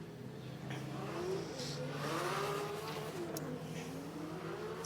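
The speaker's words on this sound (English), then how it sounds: "The traditional fireworks we can hear from the exhaust system of the Supra" Toyota Supra race car, number 18, at a qualifying final round on the Sochi Autodrom circuit, its engine droning steadily and revving nearby with a few sharp exhaust pops and crackles breaking through, loud and continuous throughout.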